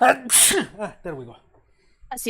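A single sharp sneeze bursts out close and loud amid a person's speech, followed by more talking.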